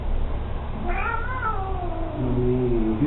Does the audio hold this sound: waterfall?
no